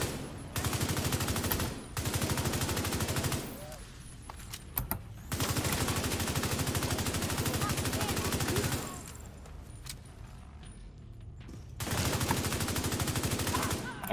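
Semi-automatic weapon fire in The Division 2 comes in long, dense, rapid volleys, loud and close, that cut off into brief pauses and then start again.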